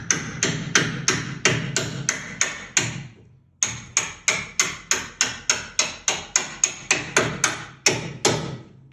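A stuck bolt on a 2001 Ford F-250 is hammered in while a leveling kit spring is being fitted, sounding as a steady run of loud metallic blows, about two per second, with a brief pause partway through.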